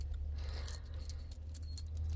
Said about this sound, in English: I found these keys on the ground outside.